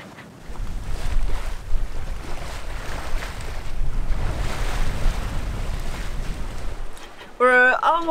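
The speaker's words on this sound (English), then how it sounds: "the waves have kicked up quite a bit" Steady rushing surf and wind noise around a sailing boat crossing the Northwest Providence Channel, continuous and fairly loud, with a voice starting to speak near the end.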